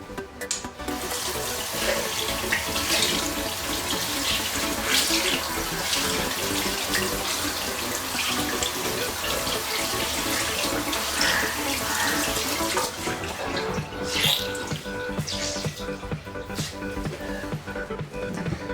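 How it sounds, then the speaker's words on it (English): Tap water runs steadily into a sink while a makeup beauty blender sponge is rinsed clean under the stream, a continuous close splashing with slight shifts in flow throughout. "Now I'll just go on tap and I'll just clean it really nicely with pure water."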